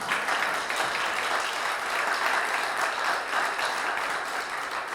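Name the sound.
congregation applauding loudly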